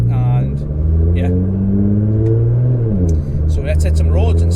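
JM1300R GTR street car engine revving while warming up, a loud, close, steady deep engine drone with rising and falling rev sweeps, a brief dip near the end before it climbs again.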